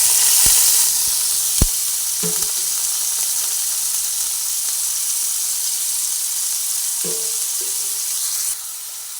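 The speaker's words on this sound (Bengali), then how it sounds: "তেল গরম হয়ে এসেছে সেই সময় তেলের মধ্যে আমি পেঁয়াজ আর রসুন পেস্ট করে রেখেছি সেটা দিয়ে দিচ্ছি" Onion and garlic paste hits hot oil in a pan, raising a loud steady sizzle and hiss with a couple of sharp knocks and spattering bursts, no one speaking.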